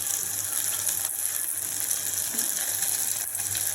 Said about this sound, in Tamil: இந்த கீரையை வந்து அலசி வைக்கிறேன்